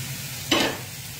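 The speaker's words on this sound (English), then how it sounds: "And kind of let that start heating up. And now we'll get in our roasted veggies" Roasted vegetables hit a hot pan in a bison stir-fry with rice, a brief loud sizzling burst that jumps up over a low background hiss and quickly settles.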